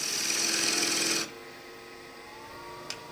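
A 10mm spindle gouge cuts into a wood bowl spinning on a lathe, a loud rough rasping hiss for just over a second that stops abruptly, leaving the quieter hum of the running lathe and one small tap near the end.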